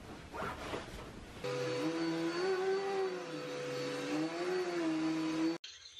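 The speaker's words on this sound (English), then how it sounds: "I have to basically use this vacuum cleaner now because the Dyson is broke." A vacuum cleaner, a stand-in used because the Dyson is broken, starts up after a brief rustle and runs with a steady whining motor hum, pitch wavering slightly as it moves across the floor, then cuts off abruptly.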